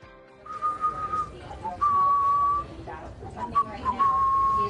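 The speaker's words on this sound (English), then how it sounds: "you hear him whistling" Someone whistles a slow tune in long, clear notes with short pauses, over a low background rumble.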